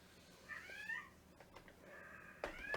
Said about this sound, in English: We have a meowing cat in the background as well.